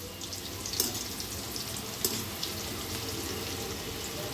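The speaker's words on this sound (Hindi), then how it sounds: "तो अब तेल गरम हो रहा है और यहाँ पे तेल गरम हो चुका है। ये दादी जी चिप्स डाल रही हैं" Roti chips dropping into hot oil in a home kitchen give a steady, hissing sizzle throughout, with a couple of brief sharper crackles near the start and middle and no talking.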